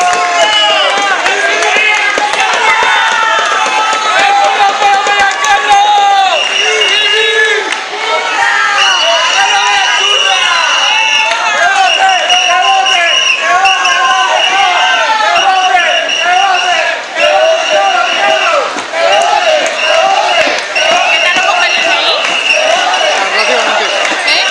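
A carnival parade crowd in Torrejón applauding and cheering a prize-winning costumed group, with loud sustained clapping, shouts and whistles, and an announcer's voice over the noise.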